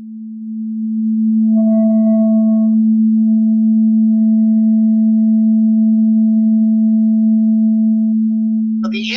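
A steady low sine tone swells up and holds evenly for several seconds, with a fainter higher tone layered above, before a brief noisy burst ends it.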